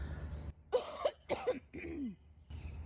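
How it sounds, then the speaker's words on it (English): A series of several short, harsh coughs, close and distinct, separated by brief pauses. "Sorry, I need a cough."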